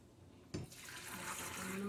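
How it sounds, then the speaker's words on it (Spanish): Water poured into a pot of beef soup with carrots and vegetables, starting with a sudden splash and settling into a steady rushing pour that grows slightly louder, close and without talk. "Vamos a poner más agua."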